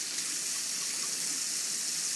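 Cold water poured in a steady, continuous gush for a freshly hatched chick, close and fairly soft, with no talking over it.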